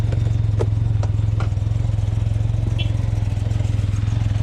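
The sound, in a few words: odd clunking noise from a 2019 Can-Am Ryker Rally drivetrain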